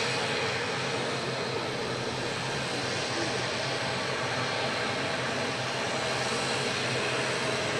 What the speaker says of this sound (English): So prop 2 now spinning as well. Great sounds that you're getting there from the ATR.